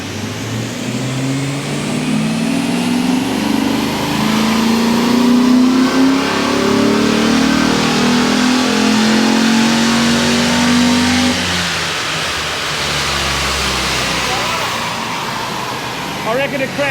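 Ford BF 5.4 with a tune, aftermarket exhaust and intake, revving hard on a chassis dyno, with a loud sustained climbing engine note for about eleven seconds before backing off to a lower idle-like drone.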